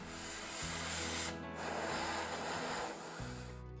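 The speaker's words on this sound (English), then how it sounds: "I also have to reapply the hairspray." Hairspray hissing from an aerosol can onto a 1/48 scale Airfix Ju-87B-1 Stuka plastic model kit, in two near, steady sprays with a short break between them.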